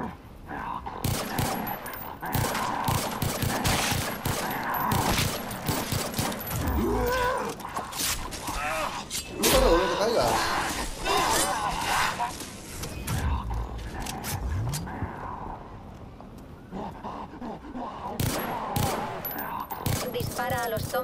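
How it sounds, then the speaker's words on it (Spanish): Sustained automatic gunfire rattles nonstop while shooting zombies in Far Cry 3 Blood Dragon, with loud clustered bursts and scattered creature cries mixed into the chaotic firefight. "Dispara a los zombies a la cabeza"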